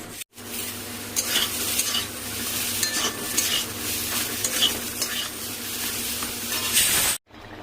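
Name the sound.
pointed gourd frying in a pan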